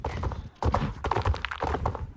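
Horse hooves clip-clop in the video game Star Stable Online, a steady run of close, fairly loud hoof thuds with short pauses between groups.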